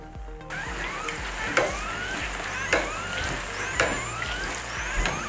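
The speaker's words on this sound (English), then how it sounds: "Repeat until all the aloo pies are fried." Potato-filled Trinidad aloo pies frying in hot oil on a stove, with a steady close sizzle and a few brief clinks and stirs at intervals.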